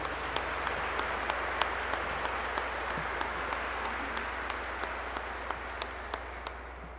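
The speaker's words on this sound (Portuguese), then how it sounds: "Uma salva de palmas às nossas crianças." A congregation at Mass in the Nossa Senhora dos Prazeres cathedral claps steadily for the children, an even wash of applause with a faint regular ticking running through it, no voices.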